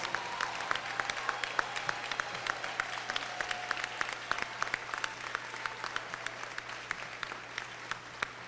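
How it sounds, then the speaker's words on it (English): An audience applauds students at an HISD event with sustained clapping from many hands, an even crackling wash that carries on without a break and has a faint steady hum beneath it. "I want everybody to give our students a big round of applause."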